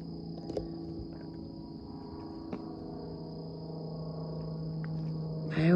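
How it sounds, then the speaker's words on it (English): Crickets, along with tree frogs, chirp in a forest at night as a steady, shrill trill that continues without a break, with a couple of faint clicks and a rising noise at the very end. "we got crickets and tree frogs this time"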